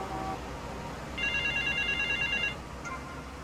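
A telephone rings at an airport in the video game GTA Vice City: an electronic ringing tone sounds once for about a second over constant game background noise, with a faint chirp afterward.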